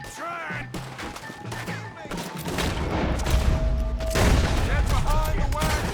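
A chaotic gunfight in Red Dead Redemption 2, with scattered shots at first, then dense, loud, overlapping gunfire building to a heavy fusillade, while voices shout over it.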